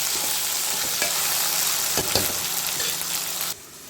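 Tomatoes and green chillies sautéing in a pan, giving a loud continuous sizzle with a few stirring scrapes, cutting off abruptly just before the end.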